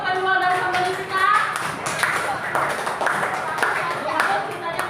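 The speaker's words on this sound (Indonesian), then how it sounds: "Tepuk tangan dulu untuk kedua dari pembeli kita." A primary school classroom claps during a lesson, a steady patter of hands mixed with children's chatter and shouting voices, fairly close and continuous.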